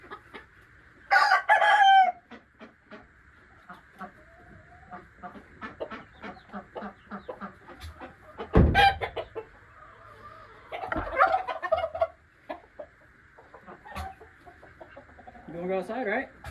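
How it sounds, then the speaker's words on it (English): A rooster on a farm gives loud, close bursts of clucking and one strong crow, with scattered clucks in between and a quieter stretch of background noise. "It's probably that rooster."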